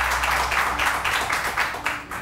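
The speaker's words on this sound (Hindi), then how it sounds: "तो अगेन तालियां" Studio audience clapping in steady, dense bursts that swell and ease in waves, fairly close and filling the whole stretch without voices on top.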